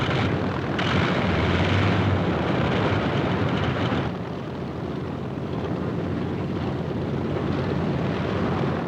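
WWII carrier aircraft run their propellers on the flight deck before takeoff, a loud, dense engine drone and propeller roar that dips briefly midway, then swells again.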